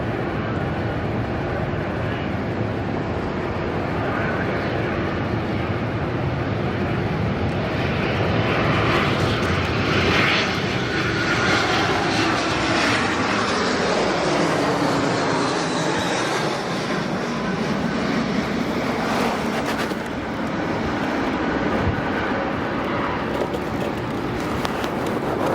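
A Jetstar passenger jet airliner at Sydney Airport roars past in crosswind, a loud sustained engine drone that swells and sweeps in pitch across the pass, with a steady rushing tone throughout.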